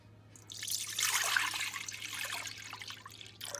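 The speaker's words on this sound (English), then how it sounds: "first we'll start off by adding in the milk" Milk pours in a steady stream into waffle batter mix for savory whole-wheat waffles, a close liquid trickle that swells after a moment, holds for a few seconds, then thins out.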